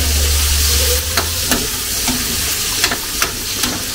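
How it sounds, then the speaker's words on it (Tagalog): Vegetables for pinakbet sauté and sizzle in a pan with a constant close hiss, as a utensil stirs through them with scattered light scrapes and taps. "Ginisang gulay yan."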